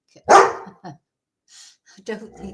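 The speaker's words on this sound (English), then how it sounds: "Never mind barking." A dog barks indoors at a home, one loud close bark followed by a shorter one, then a pause and more barking mixed with a person's voice scolding.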